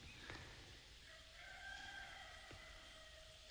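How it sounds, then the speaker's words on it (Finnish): A rooster crows out on a farm among other livestock, its call rising and holding at moderate distance, with softer hen clucks and other birdsong around it. "Kukko."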